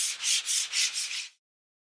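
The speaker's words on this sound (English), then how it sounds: "we finished sanding the walls with our extra fine sanding pad" Close, brisk rubbing strokes of an extra fine sanding pad on a wall, about six rhythmic back-and-forth passes, then silence.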